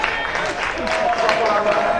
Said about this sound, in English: Kendall with a big cheer as he came through the line.